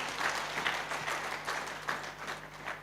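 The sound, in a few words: audience applause for God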